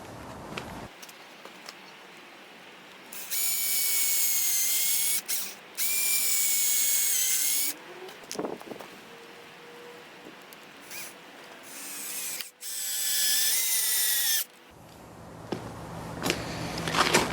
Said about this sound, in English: With it now clamped in place, I can drill the pilot hole.